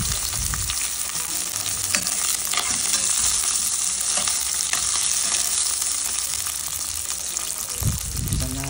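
Onion leeks sizzle steadily in a hot pan for a Filipino bulalo beef soup, with scraping stirs and a few clanks of the spatula over a continuous close, loud frying hiss.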